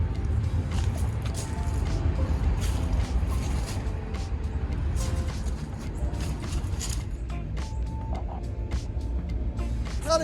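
A 1997 Ford Aerostar van's engine running steadily and loud with low rumble and mechanical clatter throughout, no clear start-up moment.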